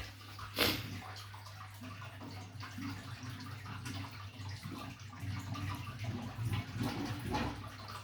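Water pours and splashes steadily into a 600-litre aquarium over a low, constant pump hum, with a few louder gurgling bursts.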